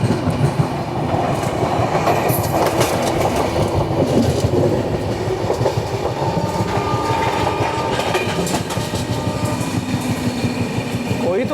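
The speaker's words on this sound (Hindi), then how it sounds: "तो अभी हमारी ट्रेन स्किप करने जा रही है हजरत निजामुद्दीन रेलवे स्टेशन को" The Sachkhand SF Express, an Amritsar-to-Nanded train, runs past Hazrat Nizamuddin station without stopping, heard from on board as a loud, steady rumble with rhythmic clickety-clack of wheels over rail joints and occasional higher metallic squeals.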